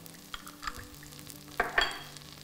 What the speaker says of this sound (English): And just stir that around. We're going to let that cook for probably about 2 minutes.